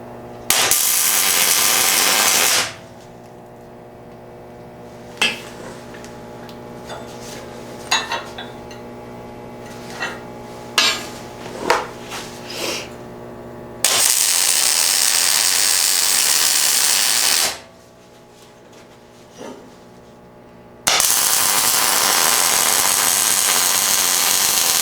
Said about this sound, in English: That way I can tack weld the ends over here, get it square, and we'll flip it over, weld the slots